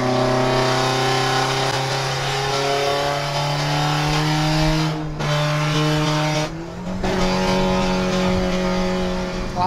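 A Toyota Corolla with a modified exhaust rumbles loudly while revving, a deep steady drone with the pitch shifting as the throttle changes, close and continuous.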